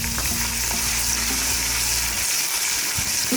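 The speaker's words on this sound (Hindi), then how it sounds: "मैं ये इसमें डाल देती हूँ साथ ही हरी मिर्चें और टमाटर।" Green chillies and tomatoes hit a hot pan and sizzle loudly and steadily, with stirring clatter, some brief tonal scrapes early on, and no voices.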